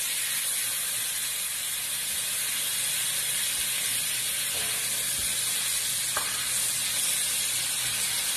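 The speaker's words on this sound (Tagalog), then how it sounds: "Ipa-fry natin yung pork chop natin. Lalagyan na, maglalagay tayo ng butter." A pork chop fries in butter in a pan, giving a loud, continuous, close sizzle and hiss throughout, with a faint clink or two and no talking.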